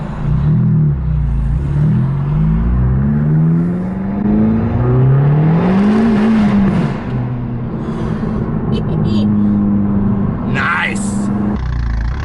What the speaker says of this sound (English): Let's start with a cheeky first gear pull through a tunnel.